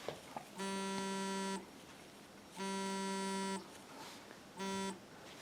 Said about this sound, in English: Sorry, that was my phone ringing.